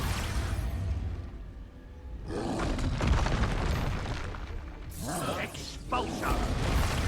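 Expulso exploding curse spells go off in the Hogwarts Legacy game, with booming blasts and rumbling bursts in a loud, continuous battle din mixed with voices.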